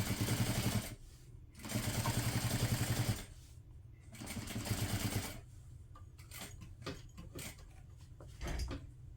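A sewing machine stitches a tote bag with a longer stitch length, running in three close bursts of steady, rapid mechanical whirring separated by brief pauses, then giving way to scattered clicks and handling knocks.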